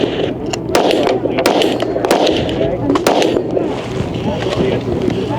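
Several sharp shots from a 5.7 caliber pistol crack out in an irregular string over steady outdoor wind and background noise, with a voice present.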